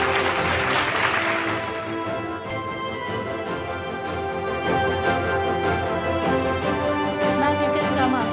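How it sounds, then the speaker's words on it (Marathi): An audience at an award ceremony claps steadily for several seconds, with music or tonal sound underneath throughout. "जोरदार टाळ्या वाजवूया"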